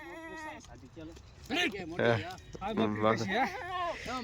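Goats bleat loudly and close by in several wavering calls, one after another, while a person talks over and between them.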